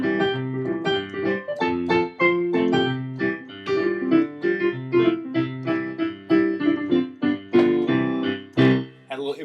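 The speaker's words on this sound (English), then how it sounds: "If we embellish that a little bit, we can turn it into a ragtime" Solo piano in a ragtime style, a steady alternating bass note and chord pattern in the left hand under embellished right-hand melody and harmony, played close and clear with no talking.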